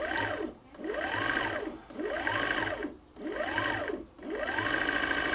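A sewing machine runs in four bursts, each a steady mechanical whir that rises and falls in speed, with short pauses between, close and fairly loud with no talking.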